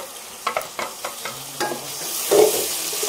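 Ground tomatoes and green chillies hit hot oil with browned ginger and garlic, sizzling loudly while a spoon stirs and scrapes the pan in several distinct strokes, with a louder burst of sizzle near the end.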